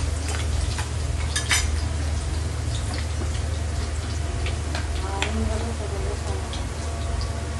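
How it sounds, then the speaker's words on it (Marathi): Cumin seeds fry in hot oil in a pan for a Maharashtrian bhindi rassa, a steady close crackling sizzle with small pops throughout. "त्याच्यामध्ये अर्धा छोटा चमचा, पाव चमचा जिरे टाकायचे।"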